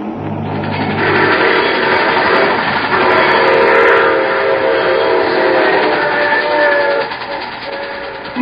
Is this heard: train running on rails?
yes